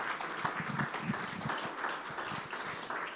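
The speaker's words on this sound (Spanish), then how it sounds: "Fuerte ese aplauso de alabanza al Señor." A church congregation claps in praise to the Lord, a fairly faint but continuous wash of many hands heard from a distance.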